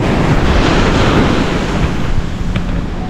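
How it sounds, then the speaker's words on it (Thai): Water runs into a canal near a river mouth as a steady, close, broadband rush, with wind buffeting throughout and no voices. "น้ำไหลเข้าคลองแล้วครับ"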